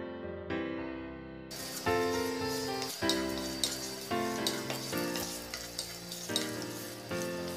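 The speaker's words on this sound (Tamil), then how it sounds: "அடுப்பில் ஒரு கடாயை வச்சு சிறிதளவு எண்ணெயை விட்டு அதில் சீரகம், சோம்பு," Cumin, fennel and black pepper crackle and sizzle in a little oil in a kadai. Bright popping and frying noise comes close up, with a few clear stirring knocks and no talking.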